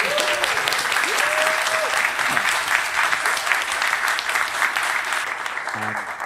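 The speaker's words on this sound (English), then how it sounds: "Great, you can give yourselves a round of applause." A theatre audience applauds itself in a dense, sustained round of clapping that stays loud and even throughout, with a few faint tonal calls or voices mixed in near the start and a brief low vocal sound near the end.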